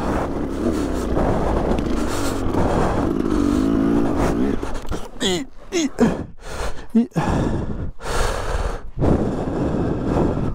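A KTM 300 EXC two-stroke dirt bike revs hard at full throttle in the woods, a loud continuous engine roar with wind buffeting, breaking into choppy bursts and cuts near the end.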